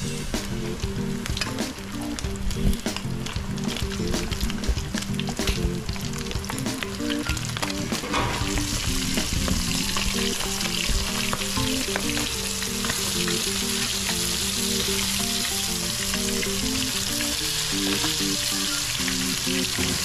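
Crispy isaw, grilled chicken intestines, sizzles and crackles loudly in hot cooking oil, a dense continuous frying hiss that grows brighter and fuller partway through, with no talking.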